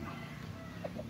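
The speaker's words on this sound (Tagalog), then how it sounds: "Nangingitlog tayong manok." Soft, low clucking from a laying hen close by, with a couple of brief higher-pitched notes over a faint background hum.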